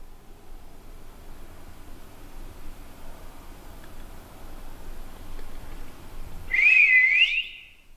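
A short whistled phrase rises briefly and clearly near the end, after several seconds of faint hiss and quiet room noise inside Ashmore Estates, a former asylum.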